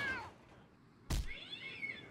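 A cat in the video game Randal's Monday lets out a pair of meows. A drawn-out cry is followed by a sharp, loud yowl over quiet game ambience.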